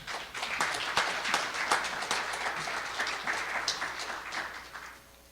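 Audience applause at a Shark Tank–style pitch event, a dense steady wash of clapping from a crowd that holds strong throughout and tapers off at the very end, with no talk over it.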